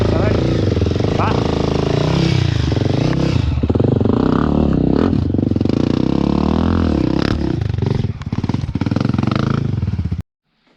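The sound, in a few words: Sherco Factory 300 2T dirt bike revving on hard trail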